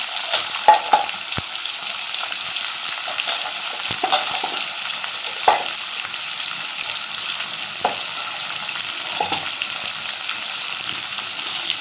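Onions and green chillies fry in hot oil with a constant bright sizzle, punctuated now and then by the soft scrape and tap of a spoon stirring the pan.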